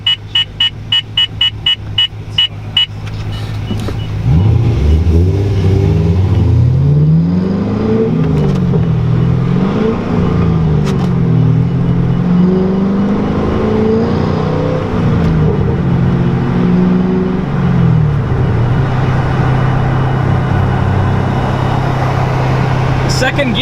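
A Pontiac GTO engine revs hard through a gear pull, swelling and falling in loud, close sweeps after a few brief pulses, then settling to a rumbling idle, with speech mixed in.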